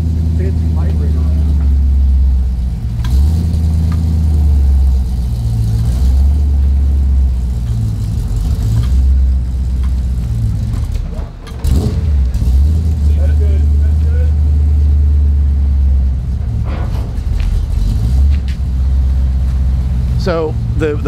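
Mercedes-AMG GT3 race car of Team Riley Motorsports, its engine idling with a deep steady rumble and brief revs while being moved, with people talking nearby.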